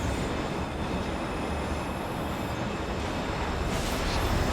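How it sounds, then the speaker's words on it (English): A train rumbles past in Destiny 2, a steady, loud, unbroken roar of rolling wheels and rail noise with faint high squealing tones above it, filling the whole stretch without a break. "wait for the train to pass"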